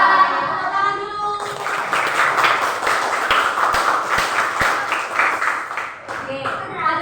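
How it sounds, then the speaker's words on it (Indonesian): Schoolchildren in a classroom clapping their hands in a quick rhythmic series of sharp claps, following a voice and with voices continuing alongside. "tepuk-tepuk tanganmu, mari kita ucapkan selamat pagi, ayo kita belajar. Tepuk tangan dulu."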